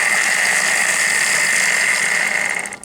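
A Warn off-road winch motor, powered through jumper cables, runs with a steady, loud electric whine and buzz for a few seconds before cutting off abruptly.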